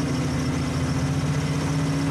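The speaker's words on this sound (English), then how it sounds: "I increase the RPMs by my hand throttle so you can see how it works" Engine running steadily at raised RPM on a hand throttle, powering an onboard air compressor, a constant close drone with a low hum and faint whine, no voices.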